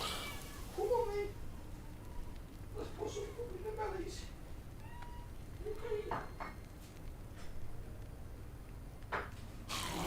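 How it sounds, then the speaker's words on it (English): A big, heavy-set cat lets out several high, thin meows in a row, close by, with someone talking over and between the cries and light clinks of dishes in the background. "Why for a big beefy cat have you got such a feminine cry?"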